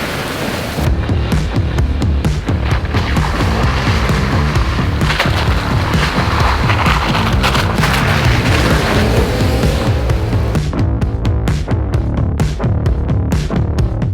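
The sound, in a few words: Jeep Wrangler driving through mud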